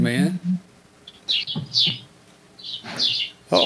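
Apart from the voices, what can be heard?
birds chirping in the background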